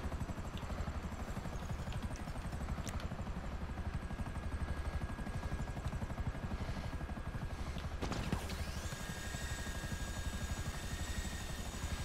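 A helicopter's rotor and engine drone steadily throughout in GTA V Online, loud and continuous, with a brief sharp mechanical clatter partway through.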